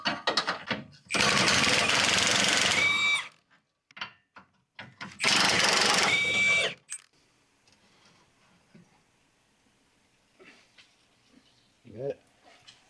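A power tool spins off 21 mm bolts during rear bumper removal on a 1999–2009 Chevy GMT-800 Silverado, two loud rattling bursts of about two seconds each, close, separated and followed by quieter clinks and brief talk.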